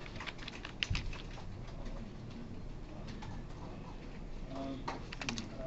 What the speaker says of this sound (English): I'm just going to type ENC.